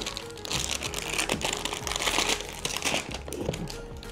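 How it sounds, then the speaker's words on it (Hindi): Plastic and paper packaging of a QMobile S250 Plus phone crinkles steadily while the box is unboxed, a continuous close rustling with bursts of sharper crackles and no talking. "और अब हम सेट को अनबॉक्स करते हैं"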